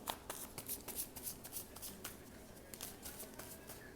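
Close, soft riffling and flicking of tarot cards being shuffled, a quick run of papery bursts with no speech.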